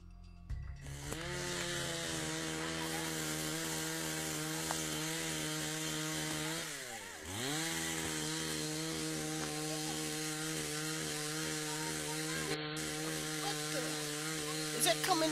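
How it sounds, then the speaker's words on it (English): A chainsaw runs steadily, its engine whine holding pitch, briefly dipping and revving back up midway, then droning on. "the chainsaw that can be heard in the background"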